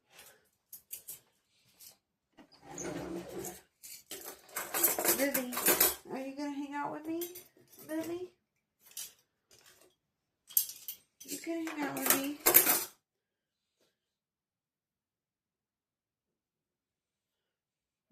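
Dirty dishes and cutlery are washed at a sink, with dishes and silverware clinking and clattering in bursts while someone talks over them, then the clatter fades to silence.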